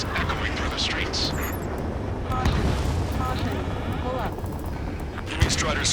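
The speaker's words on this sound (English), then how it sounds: "Gunfire and the roar of jets echoing through the streets." Gunfire and roaring jets in the Ace Combat 7 video game: a dense, sustained rumble of engines with scattered bursts and crackles, a sharp pop near the end, and speech layered over the battle noise.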